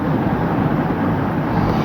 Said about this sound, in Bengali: আমি জেট প্যাকটা একটু উঠে দেখি